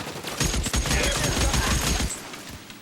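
Rapid bursts of gunfire from a weapon in the video game L.A. Noire, loud and close, with dense overlapping shots rattling for about two seconds before cutting off.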